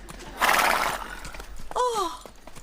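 A horse lets out a loud, close whinny that rises and trails off, preceded by a breathy snort, in an indoor scene.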